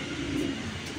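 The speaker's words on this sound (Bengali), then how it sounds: "এটা হচ্ছে বাহিরের দেশের কবুতর" A foreign-bred male racing pigeon kept for long-distance flying gives a soft, low cooing, faint and close by against a steady background hiss.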